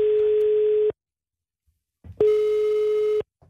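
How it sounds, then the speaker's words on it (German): A telephone line tone on a morning radio call-in show, two loud steady beeps, the first about a second long, then a pause and a second longer one. "Dave Zibung vom FC Luzern am Telefon."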